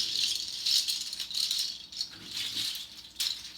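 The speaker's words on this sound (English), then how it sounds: "So I'm gonna start with these beautiful hand shakers." Handheld sonaja shakers shaken by hand in bursts of bright, dry rattling, several pulses in an uneven rhythm, close and fairly soft with no talking.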